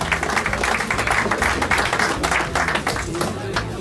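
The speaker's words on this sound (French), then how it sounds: "je voudrais qu'on fasse un tonnerre d'applaudissements pour Speed Loisirs qui nous accueille ce soir" An audience at an evening karting partners' event keeps up a steady round of applause, dense clapping with voices mixed in underneath.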